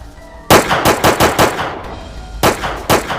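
Gunfire from a scene in the Hindi series Roman, season 2: loud automatic bursts of shots, a rapid cluster through the first half, a short pause, then further bursts near the end, with no talk.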